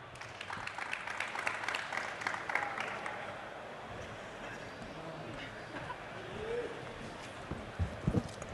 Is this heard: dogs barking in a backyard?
no